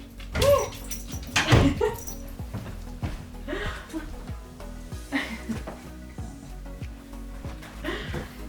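A dog at a house door wanting to be let in, giving a few close whimpers and yips with scratchy movement sounds, while people talk faintly in the room.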